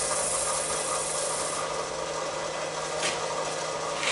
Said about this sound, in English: Take my 180 grit or 150 grit sandpaper,